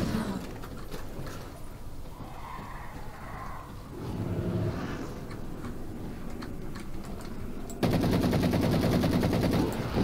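Rapid automatic rifle fire from Halo 4 gameplay, a dense stream of loud crackling shots that swells sharply near the end, with other game sounds underneath.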